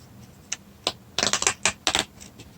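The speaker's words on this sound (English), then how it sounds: "I think we need to actually peel it open." Paper packaging inside a OnePlus 7T phone box is peeled open in a series of crisp crinkling and tearing bursts, close and fairly loud, with no talking.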